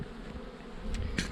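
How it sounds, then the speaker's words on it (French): Honeybees buzz on a hive frame held up by a beekeeper, a close, continuous drone that swells slightly toward the end, with a couple of brief handling noises. "j'ai un cadre d'abeilles, je sais qu'il n'y a pas la reine"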